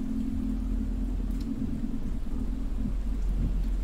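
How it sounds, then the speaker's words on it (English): Steady rain and low rolling thunder from a rain cloud in the video game Tiny Echo, a constant dense hiss over a deep continuous rumble with no pauses and no talking. "You got a rain cloud."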